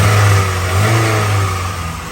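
The engine of a 1988 Nissan Pulsar NX SE is blipped by hand at the throttle under the hood, a close, loud rev that rises, holds with a strong low hum and then slowly settles.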